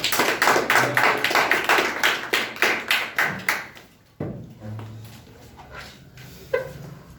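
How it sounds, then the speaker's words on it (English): An audience claps to welcome the next speaker at a talk: a burst of dense crowd applause that swells, then thins out and fades after about four seconds, leaving a few scattered claps and faint room noise. "Well, and clap for Vinod"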